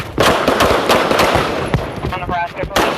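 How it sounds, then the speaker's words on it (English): Gunshots ring out during a police foot chase on a city street, several sharp cracks in quick succession amid shouting voices and radio chatter, loud and close. "2-1, shots fired."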